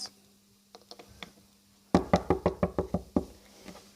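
Knuckles knock on a door in light scattered taps, then a louder run of about eight quick, hard knocks, with a final single knock after a short pause.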